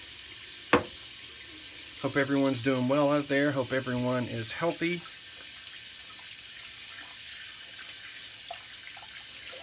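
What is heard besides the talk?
water running from a sink faucet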